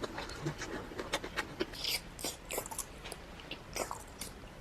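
Ginger being chewed with wet, crunchy bites and smacking mouth sounds in a close-miked ASMR eating session, irregular bursts of crunching and biting throughout, heard alone.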